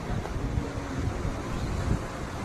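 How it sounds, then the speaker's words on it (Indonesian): Ocean surf churns at a dangerous beach where swimming is forbidden, a dense low roar of breaking and receding waves mixed with heavy wind buffeting the microphone, steady throughout with no talking. "Kalau tarikan dari ombak ke atas kembali ke darat kembali ke air itu sangat ngeri ya."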